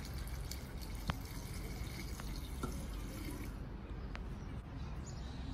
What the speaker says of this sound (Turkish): Üzerine de klorsuz içme suyu koyacağız.